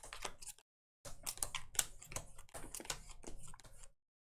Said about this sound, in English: so we're just going to shuffle these.